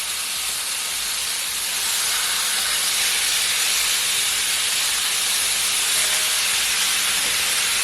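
Chicken searing in a pan for chicken Alfredo, a loud continuous broad hiss of sizzling oil that holds steady throughout, close and without talk.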